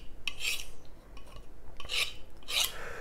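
A knife blade drawn quickly along a ceramic honing rod, giving three short, bright metallic scrapes in uneven rhythm, close and fairly quiet with no talking.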